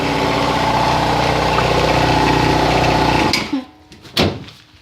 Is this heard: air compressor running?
yes